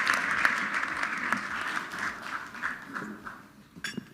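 An audience at the InvestChile forum applauds Chile's finance minister with dense, sustained clapping that slowly thins and fades, followed by a brief final burst.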